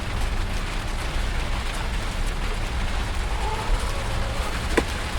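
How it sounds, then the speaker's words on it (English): Heavy rain falls steadily outdoors as a dense, continuous wash of noise with no talk over it, one brief louder patter near the end. "It's starting to get a little bit hectic here with the rain."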